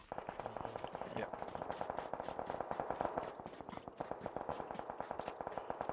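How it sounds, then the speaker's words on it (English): Rapid, continuous automatic gunfire in the PUBG video game rattles steadily for several seconds, dense and unbroken, with a few heavier shots mixed in. "A lot of shooting going on west. A lot of shots."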